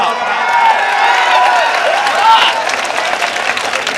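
Crowd applause at a mushaira and kavi sammelan in Gorakhpur, a broad wash of clapping with a few cheers, mixed with a lingering voice early on and swelling briefly near the middle before tapering.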